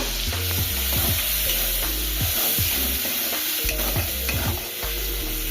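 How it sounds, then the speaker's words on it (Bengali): Onion and a ginger-garlic-onion spice paste fry in hot oil with a loud, steady sizzle, while a spatula scrapes the pan in a quick rhythm. "পেঁয়াজটাকে ভাজার জন্য দিয়ে দিলাম। এবার পেঁয়াজটা ভাজার পরে মশলাটা দিয়ে দিলাম।"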